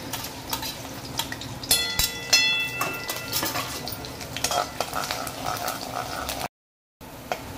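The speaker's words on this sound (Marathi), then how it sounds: "आता आपण इथे टाकलं लसूण, लसूण चांगलं लाल करून घेऊया तेलात" Garlic sizzles in hot oil in a kadai while a spoon scrapes and clinks against the metal, a close, lively frying sound with a brief silent gap near the end.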